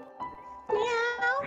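A person imitates a cat, giving a drawn-out, whiny meow with wavering pitch, preceded by a shorter nasal mew, close to the mic with no other sounds.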